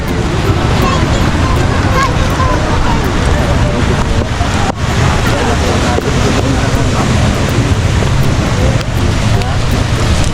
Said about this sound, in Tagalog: Oh guys, dito na tayo sa dagat ng daet.